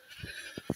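Goats bleat nearby on a farm: two or three short, close calls, the last the loudest, over a quiet outdoor background.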